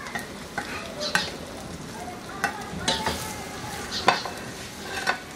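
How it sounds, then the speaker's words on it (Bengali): Thinly sliced onions fry in mustard oil in a pan, with steady soft sizzling broken by repeated scraping stirs of a spoon every second or so, close by. "ভেজে পেঁয়াজটাকে একটু বেরেস্তার কাছাকাছি নিয়ে আসবো।"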